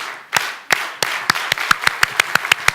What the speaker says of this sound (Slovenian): dajmo takole ploskati v takem ritmu